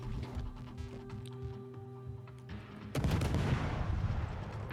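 Naval gunfire from the Grozovoi destroyer in a warship video game: a steady mechanical hum runs for about three seconds, then a loud, booming broadband salvo breaks in and rumbles on to the end.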